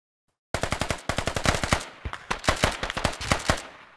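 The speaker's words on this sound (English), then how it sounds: "I think I can hear shots coming from there." Gunfire in the tactical shooter game Squad comes as loud, close bursts of rapid automatic shots with short pauses between them, set against a silent start.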